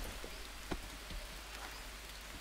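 Steady, soft rain falls in the survival video game Green Hell, a faint continuous patter with no voices over it.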